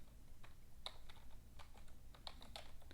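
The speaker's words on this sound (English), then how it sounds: "I will go ahead and type it all out just for you guys" Quiet, close computer keyboard typing: scattered individual keystrokes in an uneven rhythm, a few clicks per second, alone over a faint background hum.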